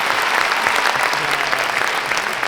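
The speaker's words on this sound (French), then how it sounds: "je pense que nous pouvons les applaudir." An audience in a theatre applauds the jury members at an inter-high-school eloquence contest final, a dense, steady wash of clapping that fills the whole stretch with no voices over it.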